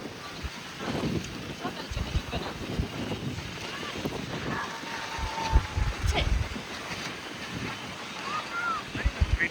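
Storm wind and crashing waves on the sea beach at Puri, loud gusts battering the microphone over a constant surf roar, with brief voices breaking through now and then.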